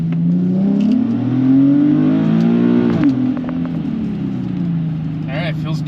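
A Nissan 370Z with a VQ37 V6, just fitted with new knock sensors, accelerates in a test pull. The engine drone climbs steadily in pitch, drops sharply near the midpoint, then settles into a lower steady hum.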